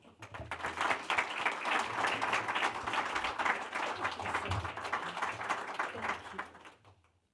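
An audience applauds steadily to welcome speaker Stella Morabito onstage, a dense wash of clapping lasting several seconds before tapering off at the end.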